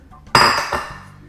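Crackers are dumped into a stone mortar carved from rock, making a single sharp clattering crash followed by a brief second rattle and a quick fade, close and alone.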